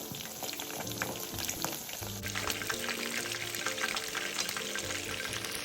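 Chicken pieces fry in medium-hot oil while being flipped, giving a steady bubbling sizzle that swells louder and denser partway through, with soft scraping and stirring noises.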